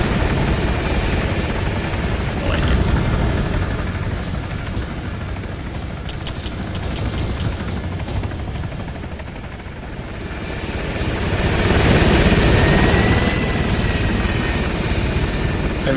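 An Apache attack helicopter in the Arma 3 military game roars loudly and continuously with a heavy rotor thrum, swelling louder as it passes close overhead, with no voices.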